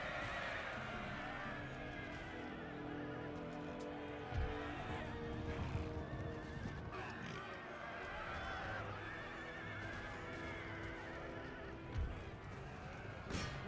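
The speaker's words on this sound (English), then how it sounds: "Go get him, regiment of horse, you're at full strength." Cavalry horses neigh and whinny amid a dense battle din with hoofbeats and rumbling in the Empire Total War game, a continuous, busy mix under faint voices.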